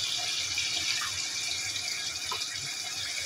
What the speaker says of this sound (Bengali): আমি আরও একবার পানি দিয়ে দিব